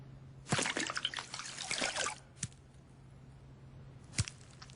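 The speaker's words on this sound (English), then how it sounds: "a similar coating over this spoon means simple, pure water will pick up any dirt and leave the spoon totally clean" Pure water trickling and splashing off a spoon given a water-repellent coating developed at the University of Bonn, a brief close run of liquid followed by two short isolated drips, set against a steady low hum.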